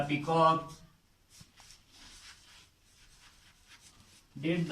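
Chalk or marker writing on a classroom board, a soft scratchy rubbing in short strokes heard quietly between a teacher's spoken words at the start and end.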